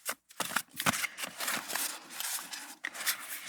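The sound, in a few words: shuffling a deck of cards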